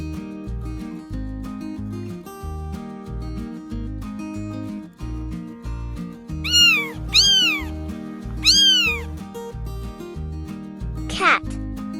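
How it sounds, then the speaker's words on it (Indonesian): A domestic cat meows twice in clear, drawn-out calls, then makes one short sharper cry, all over light looping background music. "cat"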